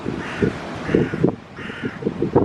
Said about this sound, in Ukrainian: І там навіть карка якась ворона.